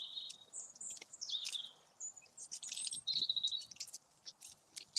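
Small garden birds, siskins and robins, chirp and twitter in quick, overlapping bursts, some calls close and bright, others faint, forming a busy scattered chorus over a quiet background.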